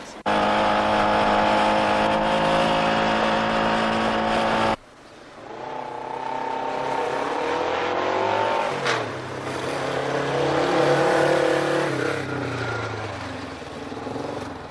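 A car engine revving loudly and close, a sustained roar that cuts out abruptly, then rises and falls again through further revs.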